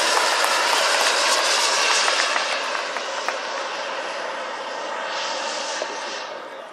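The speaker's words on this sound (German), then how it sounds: "Angetrieben werden die beiden Jetmodelle von zwei Turbinen der Firma Jet Italia" Two large model BD-5J microjets with Jet Italia turbines fly past: a roaring, hissing turbine whine passes overhead, loud at first and fading slightly, with a second rising whoosh near the end.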